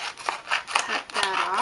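Scissors snip through paper while trimming a craft picture, several short close cuts in an uneven rhythm amid light crinkling.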